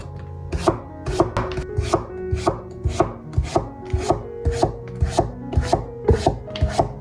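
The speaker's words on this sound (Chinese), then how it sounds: "再切成薄片。" A knife cuts a peeled pumpkin into thin slices on a cutting board, making about a dozen crisp, evenly spaced chopping thuds close up, with no talking.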